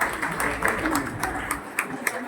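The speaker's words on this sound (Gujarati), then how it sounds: "ત્યારે આપણે તાળીઓના ગડગડાટથી આપણે વધાવીએ." An audience at a Gujarati community programme claps to welcome the start of the event, with a loud irregular patter of many hands and a few sharper individual claps, a voice speaking over it.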